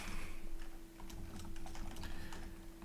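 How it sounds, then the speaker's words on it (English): Lazy typing on a computer keyboard, a loose series of soft, irregular key clicks close by over a steady background hum, with no talking. "Typing lazily, I know."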